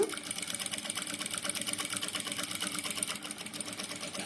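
A Jack sewing machine stitching at a steady fast rhythm, its needle producing a continuous smooth mechanical chatter, close and moderately quiet, heard alone without talking.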